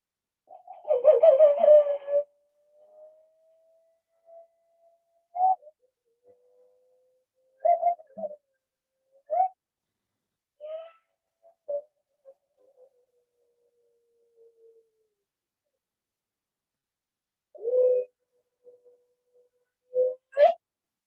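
An owl call, colotl, heard as a series of soft, low hooting coos with long pauses between, one longer warbling note at the start and a few brief calls near the end, fairly faint and alone.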